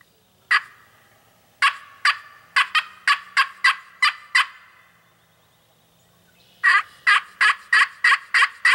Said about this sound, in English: we got a turkey that's gobbling right over our shoulder here